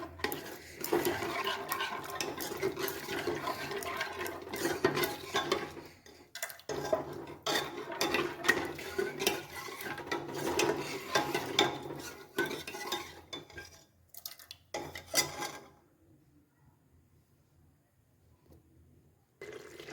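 A utensil scrapes and clanks around the inside of a metal pot in rapid, uneven strokes for about fifteen seconds while mixing water into masala for masala chana, then the stirring stops and it goes quiet.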